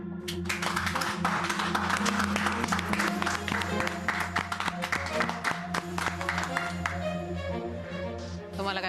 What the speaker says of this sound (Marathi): ए टाळ्या वाजवा.